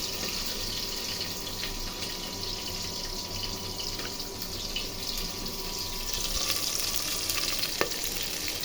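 Onion and green chili frying in oil in a cooking pot give a steady, close sizzle with faint scraping and a few clinks, and no one speaks.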